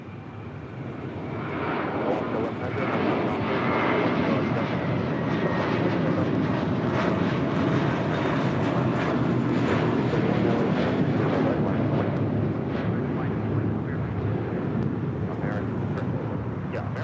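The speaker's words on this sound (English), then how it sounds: "Next departure here on the south side on 25 right, American Airlines flight 1541. It's an A321." An American Airlines A321 departing on runway 25 right at LAX, its engines a broad, sustained roar throughout, loud and steady against wind buffeting.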